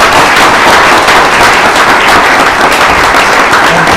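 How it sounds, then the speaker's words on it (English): Loud, dense applause from a large audience at a technology talk, steady and sustained throughout with no gaps. "Let's have another round of applause."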